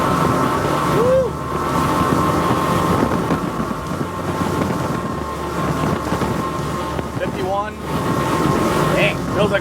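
A Sailfish 360 center console boat with triple 350 outboard engines runs at speed, producing a steady loud engine drone mixed with heavy wind rush, while people talk over it.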